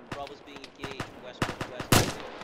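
Bursts of gunfire in a ShackTac military video game, with repeated sharp shots and short volleys through the stretch and a loud blast near the end, while voices talk over the fire.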